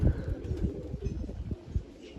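Two pigeons visiting a village rooftop give low, soft cooing calls in repeated short bursts, fairly near, over a faint outdoor background.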